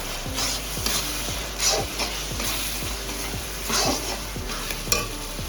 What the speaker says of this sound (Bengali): দুচামচ হলুদের গুঁড়ো দিলাম দেড় চামচ লঙ্কার গুঁড়ো দিয়ে দিলাম দিয়ে একটু নেড়ে দেবো